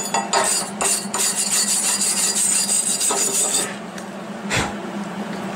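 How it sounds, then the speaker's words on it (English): A wire brush scrubs a fresh MIG weld on metal, a close, gritty rasping in repeated back-and-forth strokes with a few sharp scraping knocks, alone without talk. "I'll just take a wire brush and clean this off"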